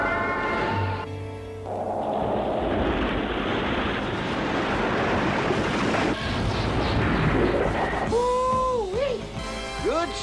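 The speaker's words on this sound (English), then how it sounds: "Firing laser." Laser weapon fire from a sci-fi animated series: a dense, roaring energy blast that swells and holds, then gives way to warbling, bending electronic tones near the end.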